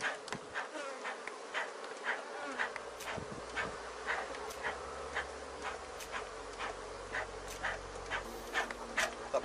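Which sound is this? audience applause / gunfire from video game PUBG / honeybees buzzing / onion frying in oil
honeybees buzzing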